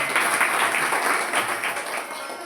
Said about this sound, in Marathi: एकदा त्यांच्याकरता सर्वांकरता टाळ्या झाल्या पाहिजे